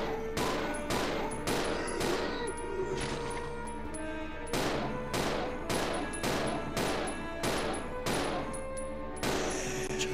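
Rapid video game gunfire with a handgun, loud repeated volleys of shots in an irregular rhythm throughout, with no talking over it.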